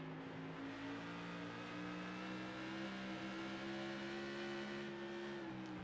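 A Tour Modified race car engine at Five Flags in a racing game, roaring under heavy throttle with a sustained rising tone and faint tire squeal mixed in.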